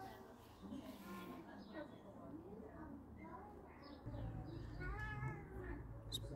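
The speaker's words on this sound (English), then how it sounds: "This is what a tomcat will do. Call the cats." A tomcat calls to the other cats with a run of soft, rising meows and chirps, close and quiet, while a low hum rises partway through.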